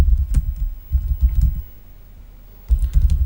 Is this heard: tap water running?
no